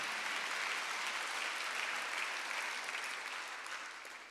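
A church congregation applauds during a Sunday worship service, a dense, steady wash of many hands clapping together, heard at a moderate distance and tapering off slightly toward the end.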